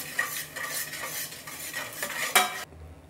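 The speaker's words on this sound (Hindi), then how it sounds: "इसमें डालते हैं 1 चम्मच अदरक लहसुन का पेस्ट, इसे भी मिक्स करते हैं।" A metal spoon stirs ginger garlic paste in a pan with the gas flame off, producing repeated scraping strokes and clinks at a steady rhythm, close and alone.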